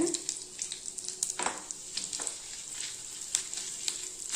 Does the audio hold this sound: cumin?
yes